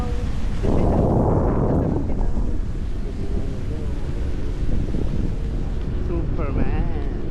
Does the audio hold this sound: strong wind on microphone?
yes